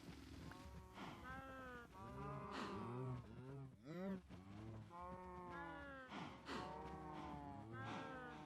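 A cow in a Minecraft HE3 modpack lets out repeated drawn-out moos, several calls in a row fairly close, with someone talking between and under them.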